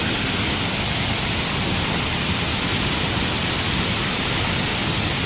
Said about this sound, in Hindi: वाटरफॉल गिरते हैं तो झरना पानी बहुत ज़्यादा आवाज़ कर रहे हैं